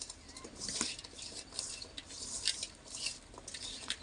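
Potato slices being tossed and mixed by hand with gram flour and turmeric in a bowl for homemade chips: repeated soft scraping, squishing and light clatter, close and fairly quiet, no voices.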